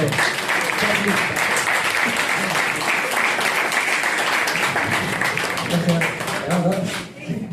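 An audience at a book presentation on Chiloé mythology welcomes a speaker on stage with loud, sustained clapping that stays steady throughout and trails off only at the very end.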